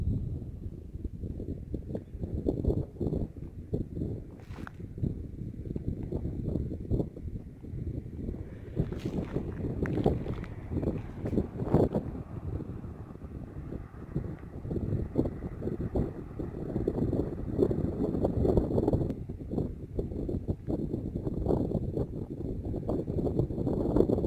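Wind gusting steadily at a reservoir campsite, a constant rushing roar buffeting the microphone with stronger surges throughout.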